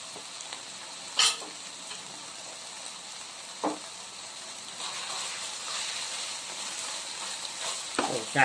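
Deer meat sizzles and crackles in a hot pan, stir-fried with shrimp paste into a spicy stir-fry, a steady frying hiss broken by a few sharp scraping stirs.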